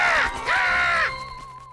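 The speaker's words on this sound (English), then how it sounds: "I heard a squawk." A cartoon monster gives two loud, harsh, crow-like squawks in a children's math show, the second one drawn out and rising at the end, alone with no talking.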